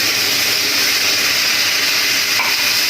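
A splash of water added to spice masala frying with potato and tomato for a catfish curry gives a loud, steady hiss and sizzle that fills the whole stretch, close up and without speech.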